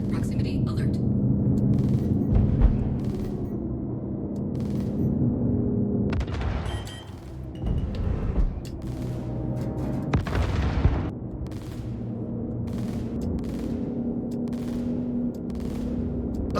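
Ship weapons in a space combat video game firing mass drivers, scatterguns and ballistic repeaters, with sustained bursts of gunfire and booming impacts rolling over a droning engine hum, loud and continuous throughout.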